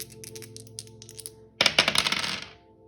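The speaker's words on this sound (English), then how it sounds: "I'm going to roll this dice to give you some angel numbers" A tossed die lands and clatters briefly across a hard surface, a sharp rattling burst that dies away after about a second, with soft background music running throughout.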